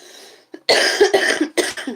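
A person coughs several times in quick succession, loud and close, each burst harsh and raspy after a short quiet start.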